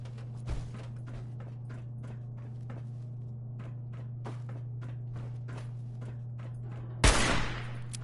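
Suppressing gunfire in the video game Fallout 4: a run of sharp, irregular shots crackles over a steady low hum, ending in a louder, harsher burst near the close.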